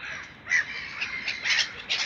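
Crows caw repeatedly during bird feeding along a riverside embankment in Pskov, harsh calls overlapping at moderate distance over a steady outdoor hiss, with no voices.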